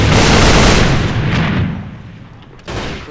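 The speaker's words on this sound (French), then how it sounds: "Grenade straight ahead!" A grenade detonates close by in the shooter game AVA, a loud broadband blast that rumbles and decays over about two seconds before a second sharp burst cuts in near the end.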